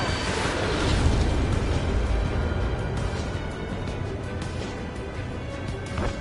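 Explosions of destroyed transports in Ace Combat 7 roar as a dense, rumbling blast wash that swells early and slowly decays, heavy low-end booms with crackling debris over continuous noise.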